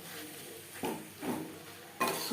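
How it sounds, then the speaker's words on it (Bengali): Chicken and capsicum being stirred in a pan for patty filling: a utensil scrapes and taps against the metal in three distinct bursts over a soft background hiss. "দু মিনিট চিকেনের সাথে ক্যাপসিকাম নাড়াচাড়া করে নেব"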